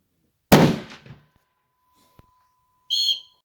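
A single loud rifle shot cracks out close by at a shooting range and decays quickly. A faint click follows, then a short electronic tone.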